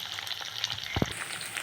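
Crushed ginger and garlic hit hot oil in a pan for a capsicum curry, giving a low, steady sizzle with one short louder splutter partway through.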